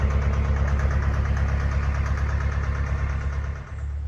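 A Vetus diesel engine on a narrowboat runs at a steady idle, a close, constant low rumble with a regular throbbing pulse and no voices.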